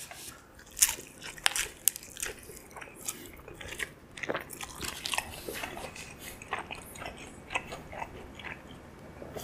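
Close, crunchy biting and steady chewing of a taco filled with tender meat cooked in a stew sauce. The mouth sounds are fairly quiet, with no talking.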